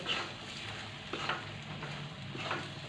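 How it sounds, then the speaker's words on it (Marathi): Brinjal pieces are stirred and sautéed in an oily spice masala in a pan, giving quiet scraping strokes over a soft low sizzle with no talking. "वांगी पण छान प्रकारे अशी या मसाल्यांमध्ये मिक्स करून घ्यायचे आहेत"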